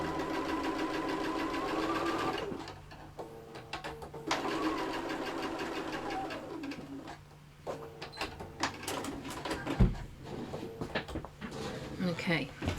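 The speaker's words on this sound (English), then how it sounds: "this is actually being sewn into place" A sewing machine stitches a seam on a handmade koala-style soft toy, steady mechanical whirring in runs that stop and start, close up, with a person talking over it.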